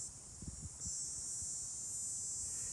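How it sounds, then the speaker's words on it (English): Cicadas buzz outdoors in a continuous, high, shrill drone, with a few soft rustles near the start. "I can hear the cicadas finally."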